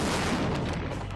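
A thermobaric bomb detonates in a tunnel test with a dummy placed nearby, producing a loud, dense, sustained roaring blast that fills the short clip without letup.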